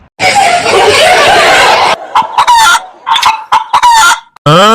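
A loud rush of noise gives way to sharp chicken clucks and squawks, several quick calls close by, ending in a rising squawk.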